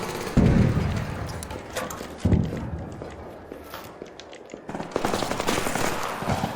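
Turret gunfire in an online shooter game, loud bursts of rapid automatic fire with sharp onsets and sustained rattling shots layered over game ambience, close and dominant.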